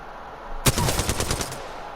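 Short full-auto burst from a twin-barrel gun in Apex Legends, about eight rapid shots in a tight rhythm, loud and close, after a near-silent start.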